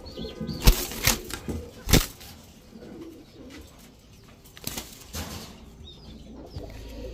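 A restless male Sabzi racer pigeon flutters its wings in sharp bursts close by, with soft coos and faint chirps between the flaps and no talking.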